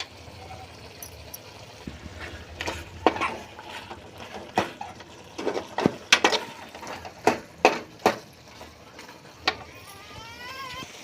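Tomato thokku being stirred in a cooking pot, with a spoon scraping and knocking against the pot in irregular clicks and taps over a low background hiss, some strikes close and sharp, no talk.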